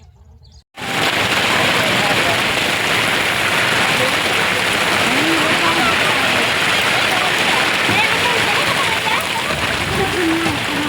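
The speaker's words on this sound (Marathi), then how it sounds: "पाऊस चाललंय" Heavy rain comes down on farmland. After a brief quiet moment it starts suddenly, then holds as a loud, unbroken roar of drumming drops, with faint voices now and then.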